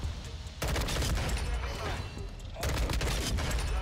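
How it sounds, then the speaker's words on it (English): An M16 rifle in Modern Warfare 2 fires loud, dense bursts, a crackling volley that briefly pauses then resumes, with game ambience underneath. "Look at that one burst."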